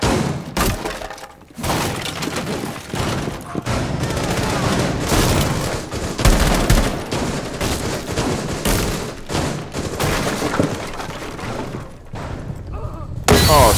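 Dense, loud gunfire from the video game Rainbow Six Siege, with continuous bursts and shots, breaking and thudding impacts, and a player talking over the fight.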